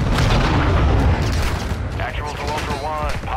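A heavy missile strike blasts an aircraft apart in Call of Duty DMZ, a loud booming rumble with a rolling tail, overlaid by radio chatter voices and faint tonal warbles near the end.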